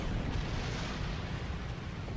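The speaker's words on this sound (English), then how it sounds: "Fire torpedoes." A starship fires torpedoes in the video game Star Trek Online, a continuous heavy rumbling blast that fills the space for about two seconds with no distinct separate shots, fairly quiet overall and without voices.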